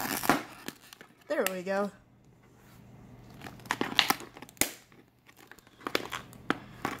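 Plastic blind bag packaging with tape on it is cut and crinkled open in several bursts of rustling and snipping, close by, with a voice speaking briefly.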